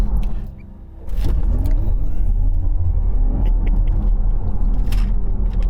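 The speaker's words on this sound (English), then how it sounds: "my foot on the accelerator, launch mode, and away we go." A Porsche Taycan electric car launches hard in launch control mode, a loud, steady rumble of motor and road noise rising after a brief dip, continuous and close for several seconds.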